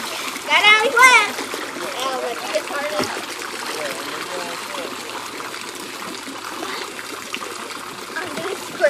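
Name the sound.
children swimming and splashing in a pond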